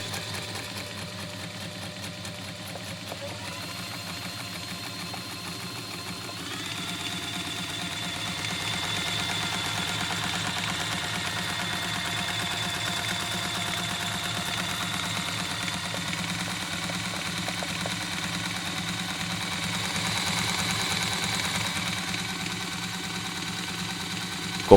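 The motor of a Brother LS 2125 household sewing machine runs steadily, starting slowly and speeding up as the foot pedal is pressed. The whir and needle clatter get a little louder and busier over a long continuous stretch with no talk.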